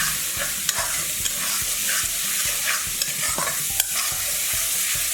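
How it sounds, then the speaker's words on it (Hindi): Tomato puree fries in oil in a pan, a steady loud sizzle broken by repeated rhythmic scrapes and taps of a spoon stirring it, close up and with no talk. "अब इसको हम भूनेंगे। तो लगातार ऐसे ही चलाते रहेंगे जब तक ये तेल ना छोड़ दे।"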